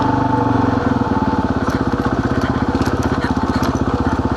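An off-road motorcycle engine runs at altitude with the carburetor slightly off, making a close, loud, lumpy putter with steady rapid pulses and an uneven idle.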